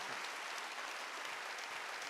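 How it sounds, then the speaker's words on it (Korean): A Korean church congregation at a Wednesday worship service applauds in a steady, sustained burst of many clapping hands, even in level and fairly soft throughout. "박수하세요."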